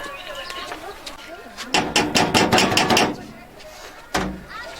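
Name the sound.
knocking on a door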